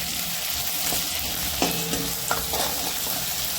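Onion, green chili and garlic cloves sizzle steadily in a hot pan with a few scraping stir strokes near the middle, close and alone.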